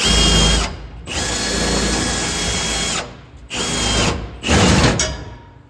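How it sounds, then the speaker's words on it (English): Power drill with a long bit bores in three sustained bursts, loud and close, with short pauses between runs and a final quick stop. "So I gotta find me a long drill bit, drill that out"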